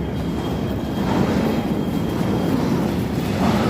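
A train rumbles steadily at a Chicago station, its low, continuous roar close and loud with no voices over it.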